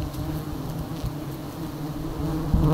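Wild bees swarm around their nest during a roadside honey harvest, a dense continuous buzzing hum, close and steady, with no talking.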